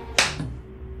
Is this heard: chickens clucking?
no